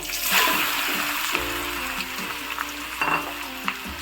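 Pieces of jackfruit tipped into a hot pan with oil and cardamom fry with a dense, continuous sizzle, close and moderately loud, with a few utensil knocks and stirring scrapes and no voices.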